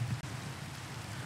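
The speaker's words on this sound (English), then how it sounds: "I hate that it's raining right now with a burning passion" Steady rainfall in the video game Minecraft, a soft continuous hiss of drops with low rumbling undertone, faint and unbroken with no voices.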